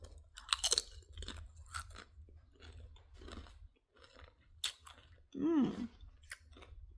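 Loud, close crunching and chewing of Late July nacho cheese tortilla chips in an irregular run of crisp bites, with a brief vocal sound partway through.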